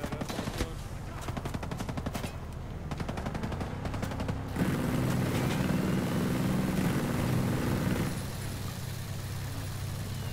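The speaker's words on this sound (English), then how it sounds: "I would man the machine gun now if I were you." Machine gun fire in the shooter game Ghost Recon Breakpoint rattles in rapid bursts, followed by a louder sustained engine and rotor roar, close and intense throughout.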